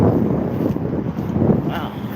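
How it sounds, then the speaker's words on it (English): A long rumbling gust of wind from a big truck passing on a road, a steady broadband roar with microphone buffeting that swells and stays loud. "Big truck with a big gust of wind."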